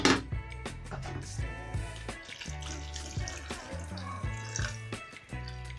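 Brewed tea poured through a sieve onto chopped mango for fresh mango juice, a continuous close trickle and splash of liquid with small clinks of the sieve, no talking.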